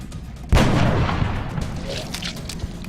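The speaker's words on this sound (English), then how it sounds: "Maybe the marksman can pick off this one." A single loud sniper rifle shot fired by a marksman in the strategy game XCOM: Long War, a sharp close crack that booms and then decays into a rumbling tail.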